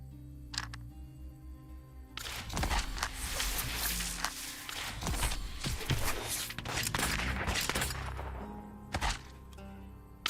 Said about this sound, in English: He created his own explosion.